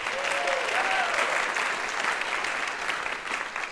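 Audience applause after a jazz ensemble concert set, a steady wash of many hands clapping at moderate distance, with a few faint voices calling out early on.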